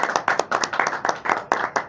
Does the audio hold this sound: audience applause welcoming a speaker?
yes